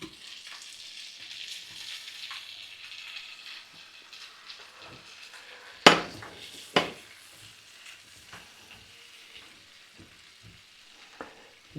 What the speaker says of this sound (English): You want to cover those mushrooms with the oil and butter there.